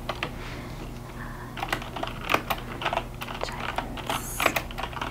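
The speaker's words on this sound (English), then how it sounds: "Let me type it in." Soft, close keystrokes patter steadily on a computer keyboard at a library desk, with a few louder clacks among them and a quiet room behind.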